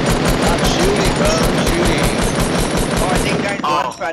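Sustained, loud gunfire in the Fortnite battle royale game, with rapid overlapping shots and bursts filling the whole stretch almost without pause.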